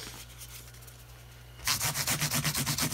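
Guitar frets are rounded by hand with 600-grit sandpaper, shifting from a quiet light scrape to a brisk, close series of rhythmic back-and-forth rubbing strokes, about two per second, with no talking.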